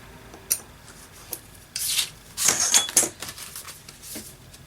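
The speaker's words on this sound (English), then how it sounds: "And just put my ruler just right there on the edge and gently cut that one." Journal material cut with a blade along a ruler, a few faint scratchy scoring strokes and small taps, quiet and close, with a longer rasping cut in the middle and no talk.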